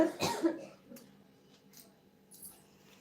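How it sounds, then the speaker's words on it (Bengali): A single short cough close to the mic, followed by quiet room noise with faint rustling. "তুই কাশি দিছ"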